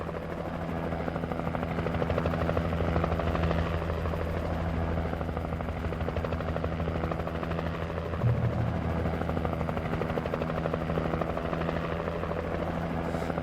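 A helicopter in a PS5 video game drones steadily and loudly, its rotor and engine hum continuous for the whole stretch with only a brief bump partway through.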